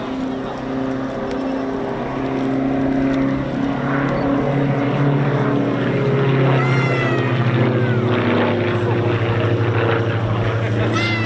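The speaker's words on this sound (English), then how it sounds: "Coming in now with the undercarriage down." A Diamond DA42 twin-engine light aircraft coming in to land with its undercarriage down at an airshow, a steady droning engine hum with a shifting propeller tone, heard loudly over continuous commentary.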